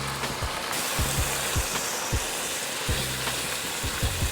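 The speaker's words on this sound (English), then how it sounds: "Now just to deglaze the skillet, we're going in with about 1/2 cup of red wine." Half a cup of red wine hits a hot skillet to deglaze it, giving a steady, close, loud sizzle with occasional soft knocks and scrapes of stirring.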